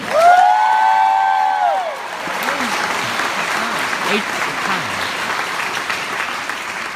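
Concert crowd at a show in Orkney Springs, Virginia, breaking into applause and cheers after a sung or drawn-out vocal line, then a sustained wash of clapping with scattered whoops beneath it.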